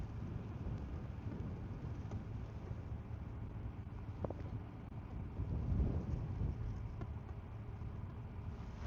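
Wind blows across a reservoir above a dam at night, at about 16 miles an hour, buffeting the microphone with a low, rumbling roar that swells into a stronger gust partway through.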